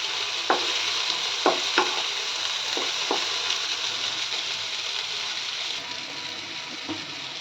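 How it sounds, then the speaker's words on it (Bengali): Prawn fritters in egg and flour batter frying in oil, a steady close sizzle broken by several soft knocks and stirring clicks. "এটা ভাজা হলেই আমি তুলে নেব।"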